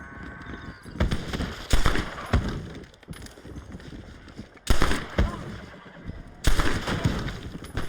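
Gunfire in the video game Red Dead Redemption cracks out in several loud, sharp broadband bursts spaced irregularly across the scene, mixed with horse whinnies and other game sounds, with no talk over them.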